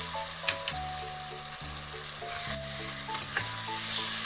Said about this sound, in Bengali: এক মিনিট মতো আমি এরকম ভাবেই নাড়াচাড়া করব।